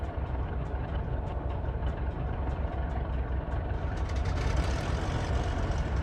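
A Cessna 414A Chancellor's right piston engine runs in a flight simulator, a steady low idling drone with a rough throbbing pulse that grows slightly busier and brighter toward the end.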